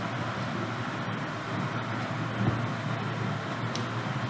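PowerPoint airplane transition sound effect: a steady, loud, broad roaring whoosh like a passing plane that holds evenly throughout and swells slightly midway, with no voices.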